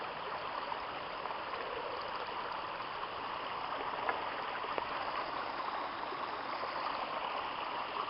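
Spring runoff stream on a woodland trail, a constant rushing, burbling flow of water with a few faint clicks, steady and close, no voices.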